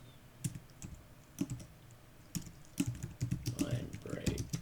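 Keys tapped on a computer keyboard in short irregular bursts while writing web page code, soft and close, with a quiet voice talking over the clicking.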